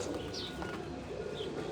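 A pigeon coos softly, a faint, brief, low-pitched call against quiet background noise.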